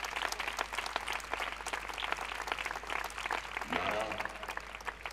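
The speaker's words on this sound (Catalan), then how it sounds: "Un aplaudiment, sisplau." A concert audience applauds a wind band after a performance, dense steady clapping filling the hall throughout, with a voice speaking briefly near the end.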